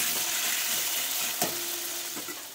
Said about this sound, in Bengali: আলুগুলোকে সুন্দরভাবে ভেজে নেবো